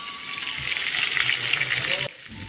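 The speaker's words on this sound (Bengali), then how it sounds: "এই দেখো মাছ ভাজা করে নিচ্ছি" Fish frying in a pan in a home kitchen, a steady close crackling sizzle with a broad hiss that runs for about two seconds before dropping away to quieter kitchen sound.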